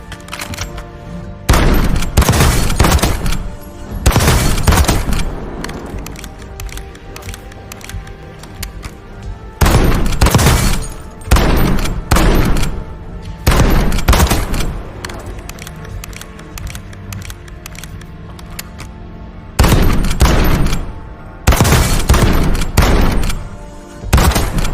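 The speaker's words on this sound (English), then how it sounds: "It's actually a very fun gun to shoot" Repeated bursts of rapid automatic gunfire from a Resident Evil 4-style weapon loadout in Call of Duty, loud and close, coming in clusters separated by quieter gaps over about twenty-five seconds.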